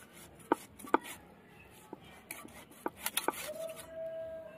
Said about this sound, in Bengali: এবার আমি মাংসটা কেটে নেব।